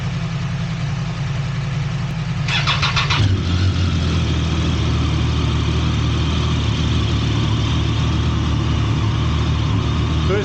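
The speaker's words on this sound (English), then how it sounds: "let's see if Carol's bike can start" A motorcycle engine cranks with a short starter whir, catches and fires up, then settles into a loud, steady close idle that runs on unbroken.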